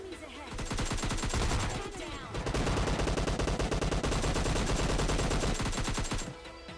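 Rapid bursts of automatic gunfire from the PUBG Lite battle royale game, dense rattling volleys crackling almost continuously for several seconds, with a player talking between shots.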